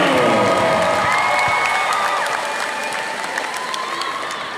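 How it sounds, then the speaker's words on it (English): Crowd applause and cheering at a high school boys basketball game honoring a Tuba City athletic director, a loud steady wash of clapping with scattered shouts and whistles that slowly eases off. "let's give one more big round of applause to Mr. James Rowe"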